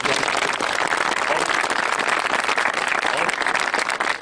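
Sustained applause from an audience at a talk recounting the 57th Infantry Regiment epic, a dense, steady wash of clapping that stays loud and even throughout, with no pauses.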